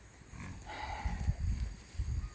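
Dairy goats on a farm make low bleating and grunting calls nearby, a few short throaty vocalizations over a quiet barn background.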